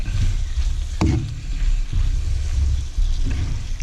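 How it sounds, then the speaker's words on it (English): Mushrooms, onions and capsicums fry in a pan for a Philly cheese steak, a steady low sizzle with a sharp clack of the spatula near the one-second mark and softer stirring scrapes after, close by with no talk. "the mushrooms, the onions and the capsicums. Stir them through for a minute."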